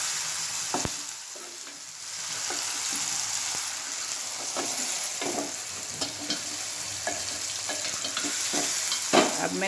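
Cluster bean stalks fry with onion and tomato in hot oil, a steady sizzle running throughout while a spoon scrapes and stirs the pan in scattered clicks and knocks.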